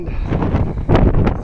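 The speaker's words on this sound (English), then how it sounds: "Oh, wind." Wind gusts buffet the microphone at the top of a volcanic crater, making loud, close rumbling bursts in uneven surges over about a second and a half.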